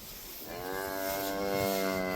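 Cow lowing in a new cattle shed just after calving a bull calf, one long rising moo growing louder over steady background noise.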